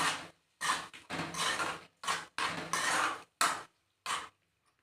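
Onions and cucumber pickle stirred together in a dish, heard as a series of close, wet, squelching bursts of mixing with short pauses between strokes.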